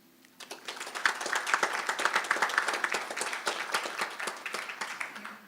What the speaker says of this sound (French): Je crois que ceci mérite une acclamation.